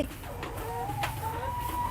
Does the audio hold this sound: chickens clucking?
yes